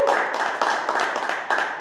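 A small audience at a city council meeting gives a burst of steady clapping after a newly elected council member is sworn in, moderately close with no voices over it.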